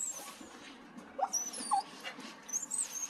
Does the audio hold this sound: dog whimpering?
yes